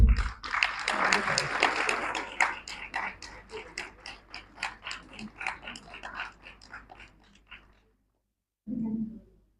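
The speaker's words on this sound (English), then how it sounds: "he says that we all should encourage them by giving a huge round of applause" Conference audience applauding on the second day of a two-day international conference, a dense burst of clapping that thins into scattered, rhythmic claps and stops, followed by a short murmur.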